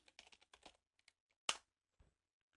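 Several quick keystrokes on a computer keyboard, typing an object name into a software development environment, followed by one louder key press, likely Enter, and a faint final tap, close and clear with no speech.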